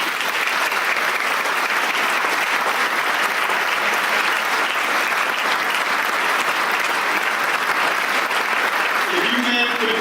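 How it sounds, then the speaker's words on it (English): Audience applause honoring state champion high school football players, a dense, steady wash of clapping from a large crowd that carries on loudly for about ten seconds, with a voice starting up faintly at the very end. "Could I have a round of applause for these gentlemen?"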